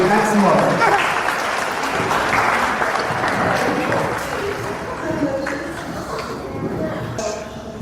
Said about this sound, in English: Please, everybody give a round of applause for Rabbi Maksumov.